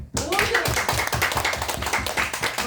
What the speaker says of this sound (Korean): 너무 잘하셨죠? 박수.